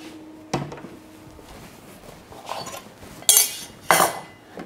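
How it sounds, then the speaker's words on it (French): Kitchen clatter as a used baking tray is cleared away: a soft knock, then two bright metallic clanks and scrapes close by, with no talking. "Donc je vais débarrasser juste cette plaque de cuisson"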